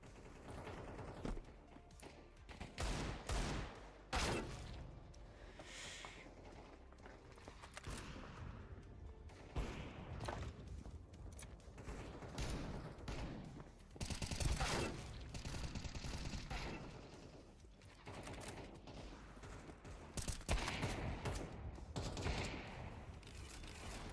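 Rapid bursts of M4 rifle and Desert Eagle pistol gunfire in a video game, repeated volleys and single cracks throughout, fairly faint and steady with no talking.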